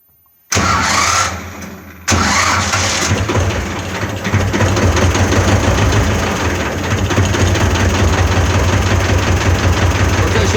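T-16 tractor with a cold D21 diesel engine cranking and catching, then settling into a loud, steady rhythmic idle close by, with no talk.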